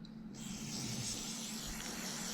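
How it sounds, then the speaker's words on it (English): Cleaner sprays in a steady pressurized hiss onto disassembled rifle magazine parts, running continuously for the whole stretch at close range. "Spray these pieces down,"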